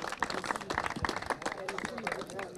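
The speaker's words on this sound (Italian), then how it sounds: "un bel applauso va anche agli arbitri" Applause for the referees at a final of a CSI eight-a-side football championship and awards ceremony, scattered clapping from a modest crowd, somewhat faint and uneven, with murmuring voices underneath.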